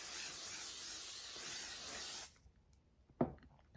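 Makeup setting spray hisses in a continuous, close, bright spray for about two seconds, then cuts off, followed by quiet and a single soft knock.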